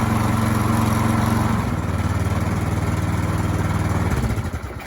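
A Troy-Bilt 2860 snow thrower engine runs steadily up close, a loud continuous small-engine drone that shifts pitch slightly partway through and drops off near the end, with no voices.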